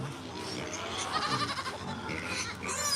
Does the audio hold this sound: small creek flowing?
no